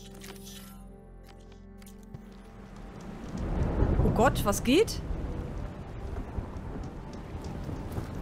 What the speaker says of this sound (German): Ist das ein Gewitter?